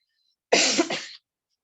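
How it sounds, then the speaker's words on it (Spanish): A single close, fairly loud cough from a speaker who has a slight cough, lasting under a second and surrounded by silence. "Tengo un poco de tos. Voy a quitar la cámara porque estoy tosiendo mucho."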